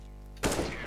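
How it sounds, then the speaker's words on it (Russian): A sudden burst of close, loud gunfire in Counter-Strike: Global Offensive, a dense cluster of rapid shots after a brief stretch of quieter steady noise. "Пули свистят"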